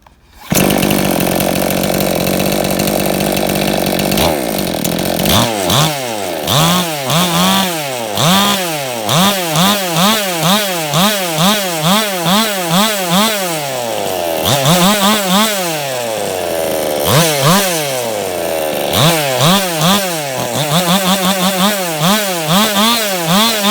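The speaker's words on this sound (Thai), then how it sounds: "ส่งงานเครื่อง C11 หัวเลื่อยนะครับ ติดเครื่องลันอินไปแล้ว 2 ถังนะครับ" A 411-type brush cutter engine (model C11) fitted with a chainsaw head, round crank and genuine carburetor set, freshly run in and rejetted, starts up. It then revs loud and close in repeated rising and falling bursts between idle stretches, with no talk.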